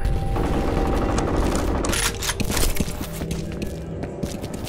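Dense, rattling gunfire in the F.E.A.R. Combat multiplayer video game on a docks map, a continuous close barrage of rapid shots with scattered bursts and mechanical clatter throughout.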